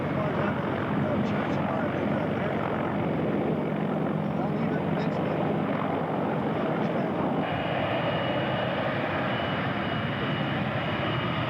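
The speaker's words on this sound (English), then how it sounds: "That's a big hunk of helicopter" A large scale model helicopter flies at a scale aircraft show, its steady dense engine and rotor roar filling the air continuously and loudly, with a shift in tone partway through as it moves.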